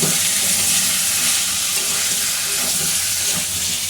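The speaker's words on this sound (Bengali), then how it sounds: "ভালো করে আমাদেরকে মিক্স আপ করতে হবে" Chicken posto frying in a pan while being stirred, a loud continuous hiss and sizzle with soft scraping of the spoon, close and steady throughout.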